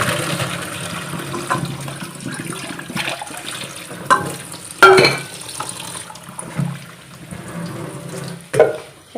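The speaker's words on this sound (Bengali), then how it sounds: "পাস্তাটা এবারে জল ঝরতে দিয়ে দেবো" Boiled pasta being drained of its water in a home kitchen, with splashing, running water and a few sharper clatters and knocks along the way.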